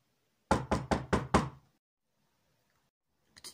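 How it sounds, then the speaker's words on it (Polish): Five quick, firm knocks on a door in a rapid even rhythm, close and clear, followed by silence and then a brief second burst of knocking at the end. "Kto to puka?"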